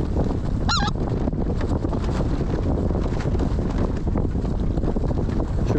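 Specklebelly geese in flight during a late-season California hunt give a short burst of honking calls early on, heard at a distance under constant heavy wind noise.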